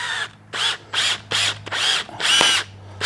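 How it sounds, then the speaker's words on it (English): A power drill coring a foam mousse insert for a dirt bike tire whirs in repeated short bursts, about six loud pulses with brief pauses between, close by and grinding as it bores. "This drill is so sweet. You just put it on here"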